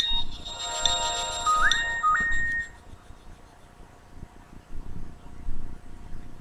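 Message alert tone from a Nokia 6288 mobile phone: a short run of bright electronic beeps and rising chirps over about three seconds, followed by quiet background hiss.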